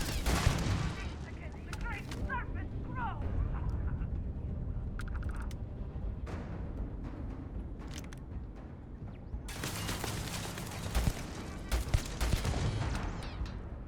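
Turret gunfire in the Starfield game, rapid bursts of shots and sharp mechanical clatter over game ambience, with someone talking at times.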